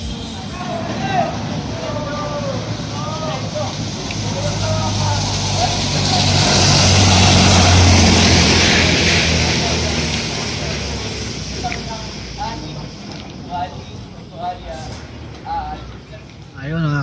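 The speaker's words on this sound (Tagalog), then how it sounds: "napasubo tayo sa lakas ng ulan, basang-basa tayo, basang-basa" Heavy rain pours during a tricycle ride in the morning, a broad steady roar with vehicle engine rumble underneath, swelling louder midway, while someone talks over it.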